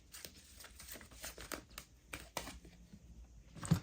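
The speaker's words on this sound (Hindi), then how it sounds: "So we have to shuffle again." Tarot cards being shuffled by hand make soft, rapid riffling and papery flicks in quick bursts, faint and close in a quiet room, with a slightly louder slap of the deck at the end.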